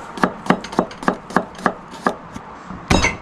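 A knife chops Cheongyang chili pepper on a cutting board in about nine quick, steady close strikes, then comes a brief louder clatter at the end, with no voices.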